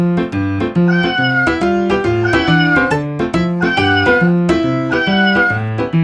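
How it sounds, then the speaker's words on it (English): A cat meows several times over a steady, bouncy musical backing, the meows clear and close. "It's a cat."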